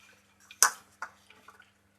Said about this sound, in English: So first you start off by adding your potash to your water.